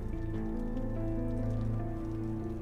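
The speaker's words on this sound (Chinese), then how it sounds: "一直在淋雨" Rain falling steadily on a film set, a continuous patter close by mixed with a low tonal hum, no voices.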